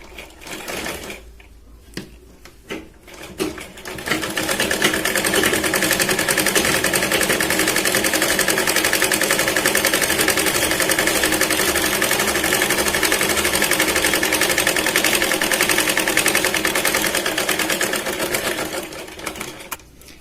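A sewing machine stitches a narrow strip along the edge of a katori blouse sleeve. A few quiet handling sounds come first, then a long, loud, rapid, steady stitching run that slows and stops near the end.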